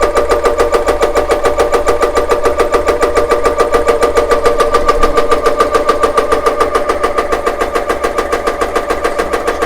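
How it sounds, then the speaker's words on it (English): An Umarex ReadyAir portable air compressor running on auto stop, a loud, rapid, steady mechanical chugging pulse that continues without a break, close up. "We're going to run it up using the auto stop feature and see how long that takes."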